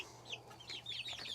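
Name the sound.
white leghorn chickens clucking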